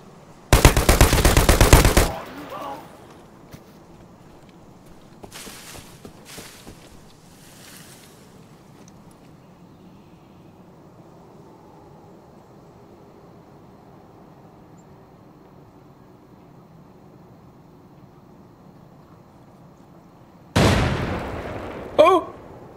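Bursts of gunfire in the shooter game Arena Breakout Infinite: a loud, dense volley at the start, a few scattered shots in the middle, then another heavy burst near the end over a low ambient rumble.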